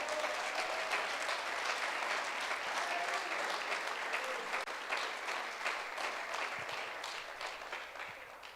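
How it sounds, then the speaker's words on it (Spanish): A church congregation claps in a sustained, even wash of applause that fades gently over several seconds, with faint voices underneath. "Así que déle ese aplauso al Señor si se lo va a dar."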